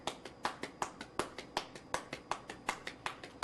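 A single person clapping their hands in a steady, even rhythm, about three to four claps per second, close and crisp, with no talk over it.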